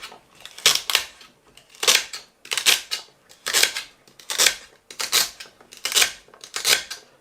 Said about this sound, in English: Alright, I got 2 stalks of celery stick. Cut it up very small.